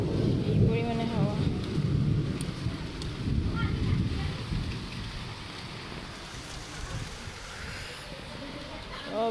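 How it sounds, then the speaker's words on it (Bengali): Strong wind roars and gusts through rain on a rooftop, a loud rushing blast at first that eases into a steady hiss, with some voices in the background. "ও সেই হাওয়া দিচ্ছে, এই পরিমাণে হাওয়া"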